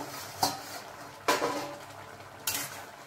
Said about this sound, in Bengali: দেখুন আবার ঢাকাটা খুলে দেখে নেব।